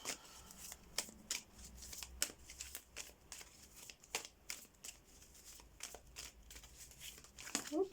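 Cards being laid out and handled on a table during a tarot-style reading, with soft close slaps, slides and rustles repeating irregularly and faintly throughout.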